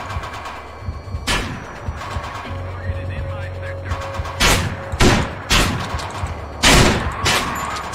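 Rifle shots crack through a tense stretch of the video game Manhunt, several loud bursts landing at irregular intervals over a low rumbling game background.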